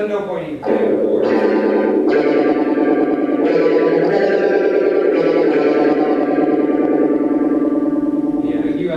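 A fast phaser effect with feedback sweeps a sustained tone into a warbling, UFO-like whoosh that pulses repeatedly, loud and up close with no talk.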